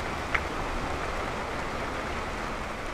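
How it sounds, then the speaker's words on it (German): Heavy rain with some hail pours down steadily in a garden, a dense continuous hiss with no pauses. "Ihr hört es, es regnet wie Sau."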